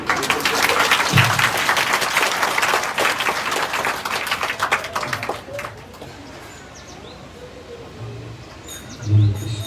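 A crowd at a Bhagavat Katha religious discourse in Himachal claps loudly and densely for about five seconds, then the applause thins and fades into scattered claps and quieter room sound.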